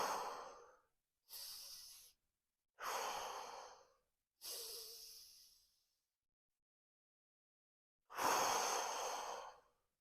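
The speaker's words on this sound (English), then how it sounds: "Take a few deep breaths." Five slow, deep breaths taken close to the microphone, each a soft airy rush separated by silent pauses, with the final exhale longest and loudest; no voices.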